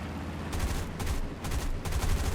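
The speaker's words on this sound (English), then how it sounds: "Now we're going to strafe these targets until I absolutely run out of ammo." The guns of a B-34 bomber strafing ground targets in the video game War Thunder, firing in several rapid, rumbling bursts over a steady engine drone.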